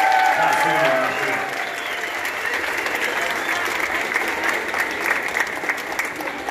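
A concert audience at a big band show applauds a trumpeter, a broad wash of crowd clapping that starts strong and stays steady, with some voices faintly mixed in.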